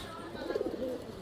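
A male and female pigeon pair coo softly, a short low warbling burst in the middle of a faint hum of background noise.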